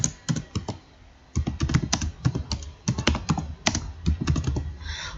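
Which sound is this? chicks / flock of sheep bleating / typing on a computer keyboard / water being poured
typing on a computer keyboard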